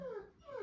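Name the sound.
dog whimpering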